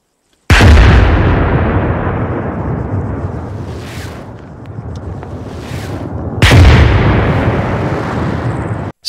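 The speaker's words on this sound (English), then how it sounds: "how to trigger some artillery to land on specific positions" Two heavy artillery shells land on set positions in a video game, each a sudden loud boom followed by a long rumbling decay, with faint swooshes between the impacts.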